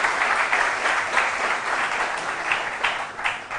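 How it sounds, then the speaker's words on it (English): Audience applauding a team at a televised quiz competition: sustained, even, crowd-wide clapping with no voices, steady and moderately loud throughout. "A round of applause for them."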